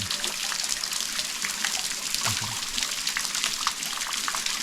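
Water trickles and drips continuously inside a cave with soft splashes and light gurgling, a steady close flow with no voices.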